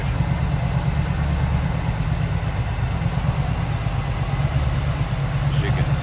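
A 1979 Chevrolet Camaro Z28 with a 350 V8 idles steadily after warming up. The low, even rumble holds at a constant level for the whole stretch.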